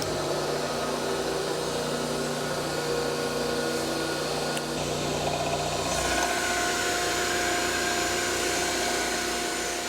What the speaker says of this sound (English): I'll turn the hydraulics on now.